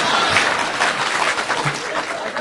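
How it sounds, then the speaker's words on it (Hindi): Audience clapping at a Hindi heroic-verse poetry recital, a steady dense patter of many hands spread through the whole stretch, fairly loud and continuous. "शशिकांत तुम भी ताली बजाओ"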